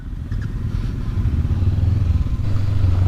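Small Yamaha 200 motorcycles ride off, their engines rising into a steady low drone and growing louder after a brief quiet start, with a rough, rattling mid-range idle character.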